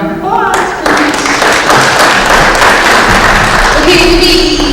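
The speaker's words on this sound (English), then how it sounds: "Round of applause, please." Audience at a leadership workshop claps in steady applause, a sustained patter of many hands filling the room for several seconds after brief speech at the start.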